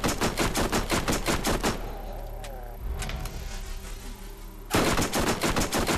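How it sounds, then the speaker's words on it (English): Rapid bursts of gunfire cut down zombies in the Borderlands video game: dense volleys of shots open and close the stretch, with a quieter gap of game ambience and a few single reports in between. "I can just shoot them once"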